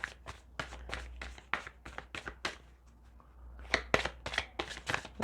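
Oracle cards from a Colette Baron Reid deck being shuffled by hand, producing a quick series of close, soft slapping and riffling bursts with a brief pause midway, no voices.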